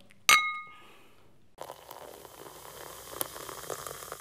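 A single bright glass clink rings out near the start and decays over about a second, followed by a low fizzing hiss, as glasses touch in a toast.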